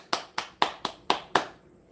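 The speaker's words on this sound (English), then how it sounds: "I'll clap." One person claps hands six times at an even, unhurried pace, each clap sharp and close, with a quiet room in between.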